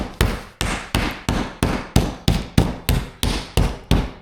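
A meat mallet pounds turkey breast thin to about a quarter inch, eleven sharp, evenly spaced thumps close up, each with a brief decaying ring, no talking.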